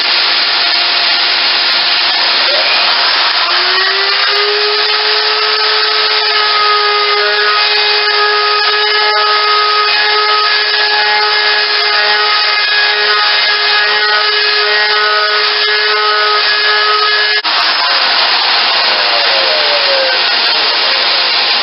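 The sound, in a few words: router table routing the edge of wood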